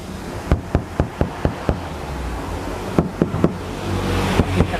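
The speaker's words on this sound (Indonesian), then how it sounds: "Nah, untuk bagian yang sudah dipasang ini sekarang kita ketok," Knocks on the sound-damped roof of a Suzuki Ignis fitted with full cabin insulation: a quick run of six dull, evenly spaced raps, a pause, then a few more, close and distinct over a steady background hum.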